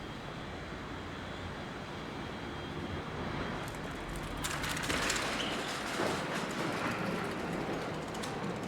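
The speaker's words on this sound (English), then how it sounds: "Oh look, we've actually had an international flight land." An international passenger jet lands at an airport, a steady distant roar of engine and air noise that swells and brightens midway through, heard from a distance with no voices.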